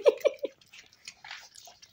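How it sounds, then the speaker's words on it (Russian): Raccoons chew food at night, with a few quick wet smacking bites up front followed by softer scattered chewing and rustling, close and fairly quiet. "А чё мы чавкаем, Лёх?"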